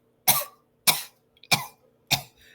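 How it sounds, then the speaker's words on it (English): Four sharp coughs, evenly spaced and close, each a short harsh burst followed by silence. "they're coughing because there's dust everywhere"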